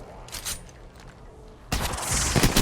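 Gunfire in the video game Apex Legends, with a few sharp shots at first and then a dense, loud burst of rapid automatic fire that fills the second half.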